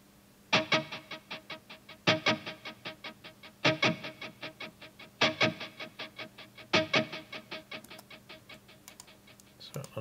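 Guitar with a stereo lo-fi preset effect plays repeated strummed phrases, each starting with a strong attack and then quick choppy pulses, four bursts spread evenly over a steady background hiss.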